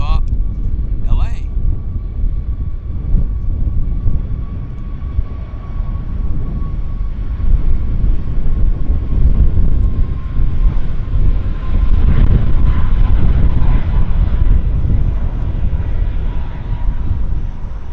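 A departing airplane at Vancouver YVR airport rumbles steadily in the distance under gusting wind noise on the microphone, a broad sustained roar that holds its level throughout, with brief speech near the start.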